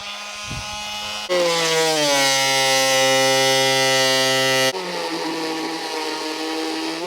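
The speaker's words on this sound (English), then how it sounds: "we also have this oscillating tool that is just awesome for plunge cuts when you need to do some real detail work" A cordless oscillating multi-tool buzzes at a steady high pitch, then rises in loudness and tone as it bites into material for a few seconds before dropping back to a lighter whine, all close and without talk.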